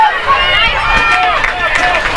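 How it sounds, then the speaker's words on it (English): Hunterdon Central soccer fans at a girls' state championship game cheer and shout as a loud, continuous crowd roar that stays close and steady throughout. "And now this is the first we've heard from the Central fans."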